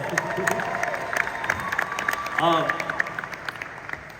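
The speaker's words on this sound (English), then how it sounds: "Give him a round of applause as well." A conference audience claps for a guest called up for a Q&A, a steady spatter of applause filling the room with a brief cheer or voice rising partway through.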